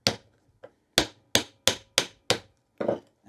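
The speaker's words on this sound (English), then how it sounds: "Hammer it in." A hammer drives a nail into the edge of a wooden board that splits, with about eight sharp, close wooden blows, one lighter tap early, then a steady run of strong strikes, and no voices.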